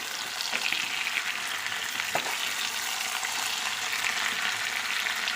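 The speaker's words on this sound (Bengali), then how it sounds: "এখন আমি টমেটোটা দিয়ে দেবো আর একই সঙ্গে কাঁচা লঙ্কাগুলোও দিয়ে দেবো" Tomatoes and slit green chillies fry in a pan alongside potatoes, giving a steady, fairly quiet sizzle with a couple of faint scraping stirs; no voices.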